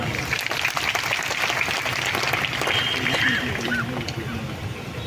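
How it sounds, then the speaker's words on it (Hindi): Dense applause from a crowd gathered at an outdoor Bharat Bandh rally in Jashpur, steady and loud throughout, with crowd noise and faint voices mixed in underneath. "सभी के लिए एक बार जोरदार ताली होना चाहिए"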